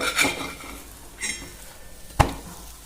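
Methi thalipeeth turned over on a hot tawa with a spatula, a few soft scraping lifts followed by one sharp metallic clack of the spatula against the pan, close and fairly quiet.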